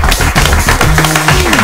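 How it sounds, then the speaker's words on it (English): Dense, loud applause and clapping from a crowd cheering the winning team at the Big Green Feud game-show event, June 2019, a steady close patter with a few voices rising near the end. "A round of applause."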